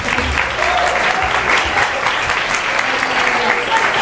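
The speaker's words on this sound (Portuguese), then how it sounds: "Vamos dar uma salva de palmas pro público." Dense, sustained applause from a large audience at a Pentecost and nations celebration, steady and full throughout with a faint murmur of voices beneath.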